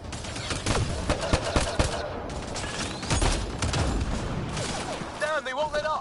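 Rapid video-game gunfire rattles in dense bursts on a PS4, with a player's voice shouting over the continuous shooting and frantic action.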